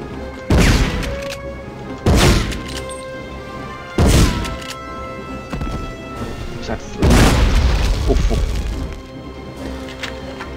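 Shotgun blasts from the 1999 PS1 war game Medal of Honor, four heavy booming shots spaced about two seconds apart with a longer gap before the last, each decaying into a rumbling tail.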